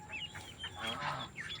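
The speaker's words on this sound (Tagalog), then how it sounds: "Ito yung aking mga kaitik." Many young ducklings kept as a flock: a close cluster of high, rapid peeping and chirping calls overlapping continuously, moderately loud.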